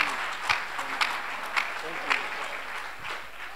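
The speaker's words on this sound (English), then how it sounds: "Clap hands for this boy" Congregation clapping at a church main service, a steady wash of applause with a few sharper claps standing out, fairly distant and moderate in level.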